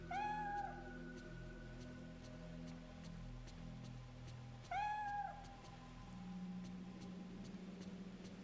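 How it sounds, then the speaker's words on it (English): Two separate cat meows in the video game Fatal Frame 3, each short and clear, spaced several seconds apart over a quiet, droning ambient background. "I just heard a cat."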